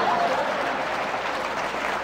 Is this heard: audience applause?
yes